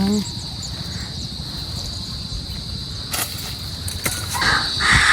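Crickets chirping in a steady high continuous trill through an afternoon outdoors, with low rustling and a few faint bird calls in the background.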